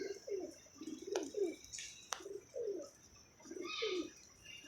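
A pigeon cooing close by in repeated soft, throaty phrases at an even rhythm, with a few sharp clicks and faint high chirps of other birds behind, no speech.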